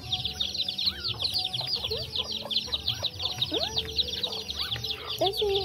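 Chickens cluck close by in repeated short calls, with a dense chorus of high chirping birds or insects throughout and faint background noise.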